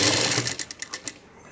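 Machine stitching of lace onto the edge of a saree, a short burst of rapid sewing-machine needle clatter that slows into a few separate ticks and then stops.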